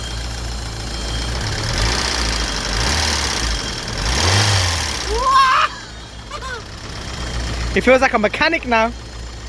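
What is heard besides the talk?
BMW E30 engine running and revving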